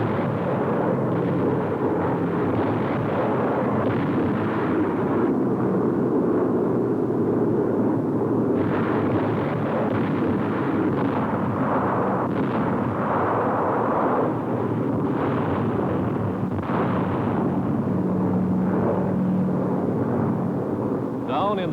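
World War II aerial bombing of Japanese shore positions at Salamaua, New Guinea: a dense, continuous roar of explosions and rumbling blasts, loud and sustained, with a narrator's voice over it.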